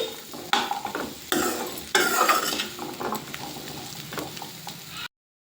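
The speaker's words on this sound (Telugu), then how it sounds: "ఇలా శనగలన్నీ మిక్స్ అయ్యేలా కలుపుకోవాలి" Boiled kabuli chickpeas being stirred into a curry in a pan: a spoon scrapes and clacks against the metal in steady repeated strokes, with a light sizzle beneath, close and clear with no talking.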